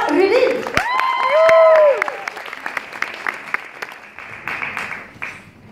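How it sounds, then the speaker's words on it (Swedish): A crowd applauds a singer about to perform, the clapping loud at first and thinning out, with a bright sustained musical tone and a few voices mixed in over it. "vi ger henne en varm applåd"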